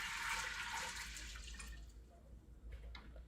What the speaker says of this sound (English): We'll add 6 cups of cold water.